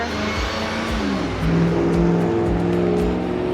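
A park bus on the Denali park road in Alaska drives past close by, its engine rumbling with shifting harmonic pitch as it goes through gear changes, loud and continuous with no talk.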